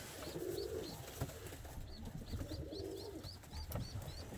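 Pigeons coo in a coop of red birds, repeated soft low coos layered with higher chirps and occasional wing flutters, steady and fairly faint throughout.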